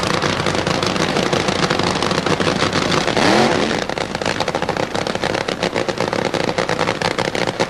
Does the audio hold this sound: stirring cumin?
no